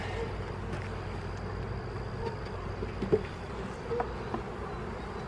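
Honeybees buzz in a steady, soft drone from an opened hive, with a few louder passes by single bees close to the ear.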